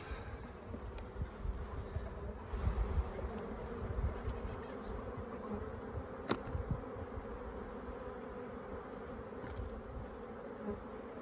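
Honey bees from a Flow Hive 2 with the queen excluder removed and the brood box exposed, making a dense, steady swarm drone that fills the whole stretch. A few nearer bees rise and fade over the hum with no voices.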